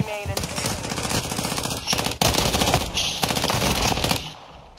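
Rapid automatic gunfire from a video game battle royale match, loud and sustained in dense bursts with a brief gap midway, close and dominating throughout.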